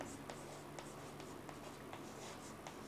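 Faint pen-on-paper writing during a chemistry lesson, light scratchy strokes under a steady background hiss, quiet and close.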